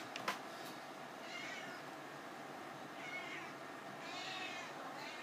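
A cat meows a few times at moderate distance over a steady hum from an HP DV7 laptop that keeps freezing, the calls drawn out and fairly faint.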